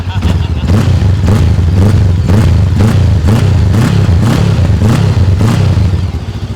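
An MForce bobber-style motorcycle with a double-barrel exhaust is revved up close in a rapid series of loud, throaty blips, each about half a second apart, over a rumbling idle.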